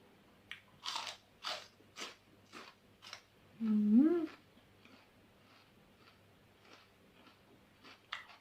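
Spicy Thai cucumber salad is chewed with a run of crisp, close crunches at a regular bite-by-bite rhythm, joined midway by a brief hummed vocal sound.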